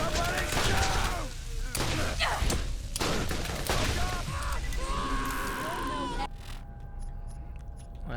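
Rockets and gunfire trade in Borderlands: The Secret Armory of General Knoxx, a dense run of blasts and shots with a person talking over it throughout, thinning out near the end.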